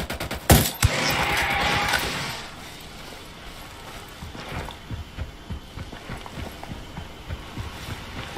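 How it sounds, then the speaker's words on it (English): Rapid burst of gunfire in a video game opens loud and close, then gives way to a quieter stretch of scattered shots and clattering impacts. "Opening fire on these fuckers."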